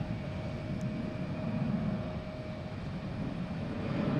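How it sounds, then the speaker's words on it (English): Delta airliner taking off at Boston Logan International Airport, a steady distant jet roar that holds at an even level throughout. "Oh, we got a takeoff here. Delta heading to West Palm Beach."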